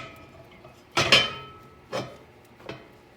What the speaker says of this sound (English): I'm gonna cover the pan.